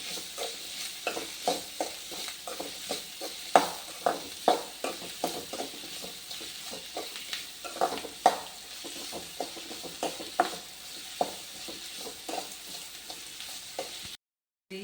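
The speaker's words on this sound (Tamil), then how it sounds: "வெங்காயம் நல்லா வதங்கும்." Small onions frying in a pan for a Tamil appalam kuzhambu, a soft sizzle under repeated clinks and scrapes of a spoon stirring at an irregular, unhurried pace.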